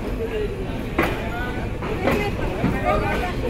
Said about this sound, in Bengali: আন্তনগর কপোতাক্ষ এক্সপ্রেস ছেড়ে গেল রাজশাহী রেলওয়ে স্টেশনে দুপুর 2টা 30 মিনিটে